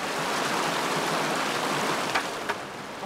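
Water flows continuously along Fossil Creek, a steady broadband rush heard up close with a couple of faint splashes or knocks near the end.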